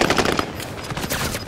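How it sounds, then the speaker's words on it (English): Rapid automatic gunfire in Call of Duty Warzone on the Fortune's Keep map, dense machine-gun bursts crackling loudly and continuously through the whole short stretch. "They're shooting at me."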